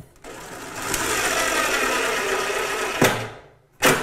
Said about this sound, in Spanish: Ahora voy a atornillar este de aquí.